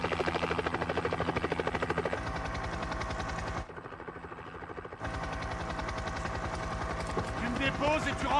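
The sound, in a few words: helicopter flying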